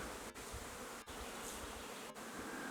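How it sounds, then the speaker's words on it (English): Bees buzz steadily around a beehive tucked into a rock crack along a gully walk, a continuous close insect drone with a few brief dips, no talking. "a beehive up in that crack there"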